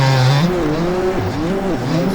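Revving Gas Gas 250cc motocross bike engine on a dirt track in a video game, a loud steady whine that rises and falls in pitch as the throttle opens and eases, heard close and continuous.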